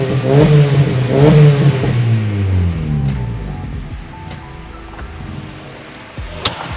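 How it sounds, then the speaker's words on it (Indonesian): A Honda Jazz GK5 car exhaust revs up loudly with a deep, rumbling roar, then settles into a lower idle burble that continues steadily. "Gue mau tunjukin suara knalpotnya, guys."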